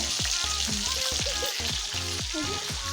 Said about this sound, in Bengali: এখানে এখন মাছ ভাজা চলছে